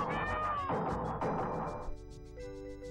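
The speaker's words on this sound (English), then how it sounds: "It just means a lot of meows." Cartoonish cat meows repeat rapidly from a character in the SNES video game Magic Boy, layered over busy chiptune music and game effects, loud and continuous throughout.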